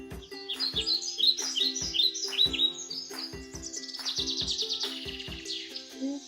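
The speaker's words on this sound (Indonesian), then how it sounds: "ada suara burung" Bright, repeated bird chirps and tweets from an animation soundtrack, a lively series of quick calls over a steady low tonal background with rhythmic soft thumps.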